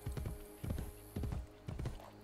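Hooves clip-clop in a steady galloping rhythm as a horse is ridden in Assassin's Creed Brotherhood, loud and close, with four bursts of hoofbeats against a low game ambience and no talk.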